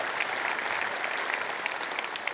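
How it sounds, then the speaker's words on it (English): A church audience applauds, a dense, even patter of many hands clapping at moderate distance, sustained for a couple of seconds with no speech over it. "Yeah, clap for that."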